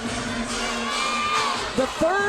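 A large arena crowd at an NCAA women's basketball second-round game between Creighton and Iowa cheers and whoops in a loud, sustained roar with a few sharp shouts near the end.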